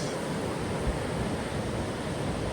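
Ocean waves wash continuously onto the beach at Los Cristianos, Tenerife, a steady broad roar of surf and wind with no voices.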